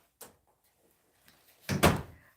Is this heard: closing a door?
yes